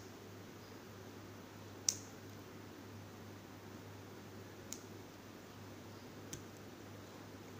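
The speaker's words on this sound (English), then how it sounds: "Then I take my cutter" A cutter snips excess beading line on a handmade beaded rope, giving three sharp, isolated clicks spaced a few seconds apart against a quiet room hum.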